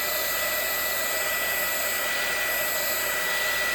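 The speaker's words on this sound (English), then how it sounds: "my heat gun," A heat gun blows steadily to dry gesso on a painting surface, a loud, constant whooshing drone with a high whine running unbroken throughout, with no speech.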